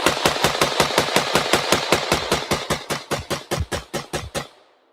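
A firearm fitted with a muzzle brake fires a long rapid string of about twenty loud, sharp shots close by, evenly spaced, and then the last shot's echo fades.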